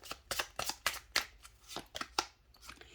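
Tarot cards being shuffled and drawn: a quick series of crisp riffling snaps and flicks, close and fairly quiet, with no talking.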